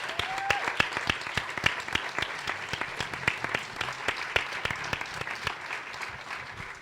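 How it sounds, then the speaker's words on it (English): An audience claps steadily for several seconds, a dense patter of many hands at moderate loudness, with faint talk underneath. "So let's give Sean Harding a round of applause."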